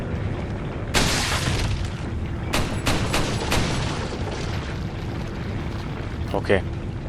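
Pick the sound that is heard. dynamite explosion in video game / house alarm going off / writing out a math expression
dynamite explosion in video game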